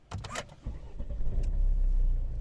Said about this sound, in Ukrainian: Автомобіль заводиться